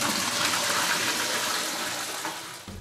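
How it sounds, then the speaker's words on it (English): A urine-separating toilet flushes with a loud, steady rush of water, a broad hissing gush that fills the whole stretch close up and eases slightly toward the end. "You can now flush quite normally."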